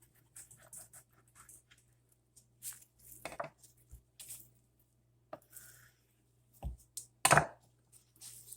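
A knife cuts a large slab of curing bacon in half in a home kitchen, giving a few scattered chopping and squishy knocks, with a sharp thud near the end, over a steady low hum; no one speaks.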